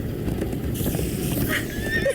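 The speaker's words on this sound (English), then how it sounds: "Come on, horses!" Horses in the Minecraft: Story Mode game whinny over a rumbling gallop of hooves, with a high neigh rising near the end above the steady clip-clop and low background noise.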